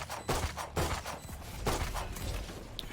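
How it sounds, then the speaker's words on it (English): Gunfire crackles through a competitive Overwatch-style shooter match between pro teams, bursts of shots arriving in clustered volleys roughly every half second over steady game noise, moderately loud with no talk. "Shots from pyth not landing."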